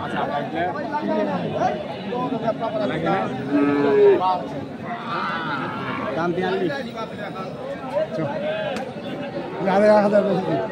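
Native-breed bulls and cattle at a busy rural livestock market in Thakurgaon, Bangladesh, moo and low close by amid steady chatter of buyers and sellers haggling.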